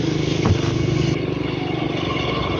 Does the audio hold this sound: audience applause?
no